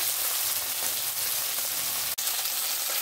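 A fish head fries steadily in a pan, giving a dense, even crackle and sizzle at close range with one sharp click near the end and no voices.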